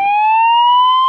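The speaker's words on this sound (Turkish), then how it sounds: "Şu siren seslerine bakar mısınız arkadaşlar?" A Siren Head siren blares in the video game Minecraft as one loud, continuous tone that slowly rises in pitch, heard alone without talk.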